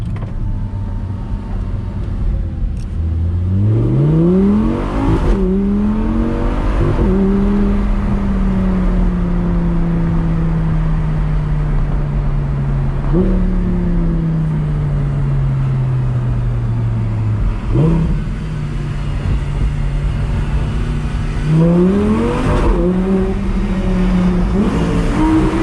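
Audi R8 V10 engine revving up through the higher RPMs from inside the cabin, its pitch climbing and falling through several throttle pulls and gear changes, loud and steady across the stretch with no talking.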